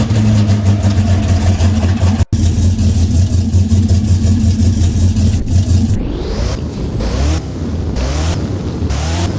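Car engine in the Roblox game Driving Empire, a loud steady drone with a low hum that shifts after a brief cut, then rising and falling revs sweep up repeatedly in the second half.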